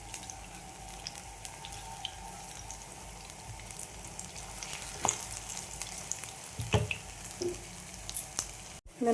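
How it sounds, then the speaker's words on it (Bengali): Potato pakoras frying in oil give a steady, quiet sizzle with soft crackles and a few sharper pops and bubbling bursts toward the end, with no voices. "এইভাবে উল্টে পাল্টে ভাজবো।"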